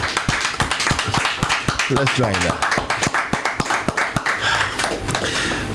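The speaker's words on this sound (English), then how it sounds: "I want everyone here to clap their hands," At a birthday celebration and radio anniversary lecture, an audience claps in a fairly regular rhythm of distinct, separate claps while voices talk and laugh over them.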